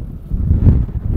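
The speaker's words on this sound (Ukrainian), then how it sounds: "І вітер тут дуже сильний." Strong wind buffets the microphone in a steady low rumble beside wind turbines at a wind farm in Oriv village near Truskavets, Ukraine, gusting slightly louder midway through.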